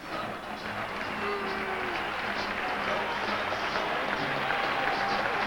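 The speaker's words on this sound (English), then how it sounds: "Gets a nice round of applause from these San Diego Charger fans" A stadium crowd of San Diego Chargers fans applauding at a 1989 football game against Houston, a sustained wash of clapping and cheering at moderate distance, steady throughout.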